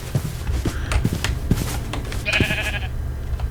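A sheep bleating in the Minecraft FTB Academy modpack, a short wavering bleat standing out near the end after a scatter of soft game clicks and footsteps.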